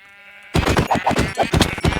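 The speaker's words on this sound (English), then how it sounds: "And why is there so many sheep again?" Sheep bleating in the Minecraft video game, several short, wavering bleats in quick succession that overlap, loud and near after a faint tonal intro, with no talk over them.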